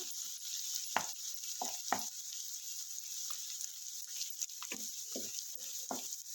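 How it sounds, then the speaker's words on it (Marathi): Masala and stuffed brinjal sautéing in a pan, a steady bright sizzle with scattered soft scrapes and stirring taps, moderately loud and close, no voices. "आपला शिल्लक राहिलेला जो मसाला होता तो यामध्ये घालायचा आहे त्यालाही चांगलं परतून घ्यायचं आहे"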